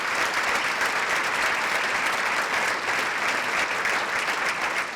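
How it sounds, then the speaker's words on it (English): Sustained, loud audience applause fills a business awards ceremony in Marlborough as Dave Walton of Patriot Ambulance wins Business Person of the Year, a dense, even wash of clapping hands throughout. "Perhaps the loudest applause came when Dave Walton of Patriot Ambulance won Business Person of"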